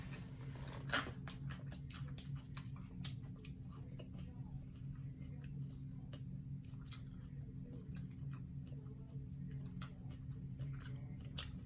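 Close, crunchy bites and chewing of fish quesadillas during a seafood mukbang, a busy run of crisp crackles and squishy mouth sounds over a low steady hum.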